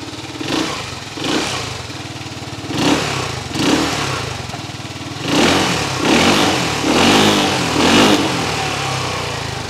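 A Bristol Maxie 400 motorcycle engine revs repeatedly, rising in a series of throttle blips and longer revs over a steady idle, close and fairly loud with no talking.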